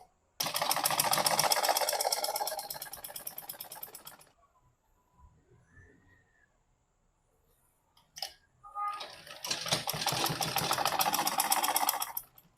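A sewing machine stitches sleeves into a gown in two loud, steady bursts of rapid whirring, separated by several seconds of near quiet with soft handling noises and a brief click.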